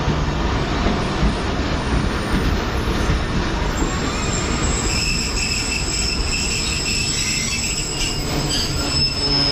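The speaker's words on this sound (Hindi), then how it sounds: "हमारी ट्रेन इस वक्त डीथा रेलवे स्टेशन को स्किप करने के लिए जा रही है" The Karachi Express rumbles along at speed with a constant heavy clatter of the carriages and high, sustained wheel squealing heard from on board.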